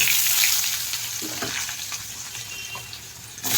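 Potatoes go into a pan of chilli and tomato already fried red, producing a loud, continuous close-up sizzle with light stirring scrapes and a fresh burst of spitting at the end.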